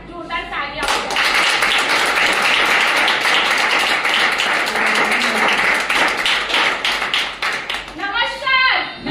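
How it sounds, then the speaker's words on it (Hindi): Audience applause at a product presentation in a hotel hall, loud sustained clapping from many hands that swells after a voice, fades, and is followed by her talking again. "इसे एक बार जोरदार तालियां हो जाए।"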